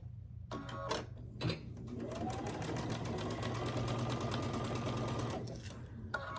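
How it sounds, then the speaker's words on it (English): A sewing machine stitches quilt pieces for a scrappy star quilt, its motor starting up and running in a fast, steady whir of needle strokes for a few seconds before stopping, with brief bursts of clatter at the start and end. "I'll just take this last piece and I'll stitch it on"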